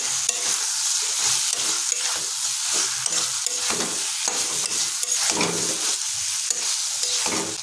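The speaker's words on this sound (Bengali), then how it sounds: "ভেজে রাখা আলু আর পটলগুলো যোগ করে দিয়েছি, তাই এটাকে আমরা 3 মিনিট ধরে লো ফ্লেমে আরও কষাতে থাকবো।" Fried potatoes and pointed gourd pieces are stirred in a wok over a low flame, a dense continuous sizzle broken by repeated rhythmic scrapes of the spatula, close and unbroken.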